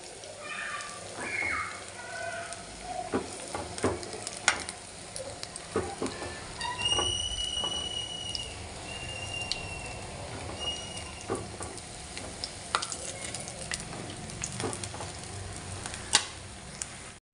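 Garelu lentil fritters frying in hot oil for a Sankranti meal, a faint continuous bubbling sizzle dotted with irregular small crackles and clicks, heard at close range.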